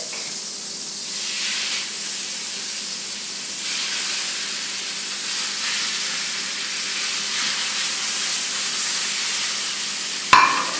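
Skirt steak sizzles and hisses steadily in a pan of olive oil and butter, a constant close frying hiss with a brief sharp clatter at the very end.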